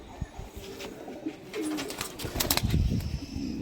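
A teddy male pigeon, a high-flying Pakistani breed, gives low throaty coos close by, building into a denser burst of cooing toward the end.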